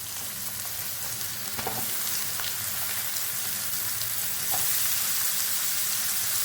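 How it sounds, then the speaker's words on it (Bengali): Onion and mushrooms frying in mustard oil while being stirred, a dense continuous hiss of sizzling that grows slightly louder toward the end, with a few faint utensil scrapes, close up and no voices. "পেঁয়াজটা আমি লাল করে ভেজে নিয়েছি। এবার আমি বেছে ধুয়ে রাখা ছাতুটাও দিয়ে দেবো।"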